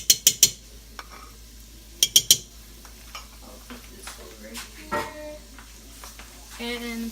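Garlic fries in a pan while being stirred, with sharp metallic clinks of a utensil against the pan, soft sizzling beneath and a voice talking intermittently.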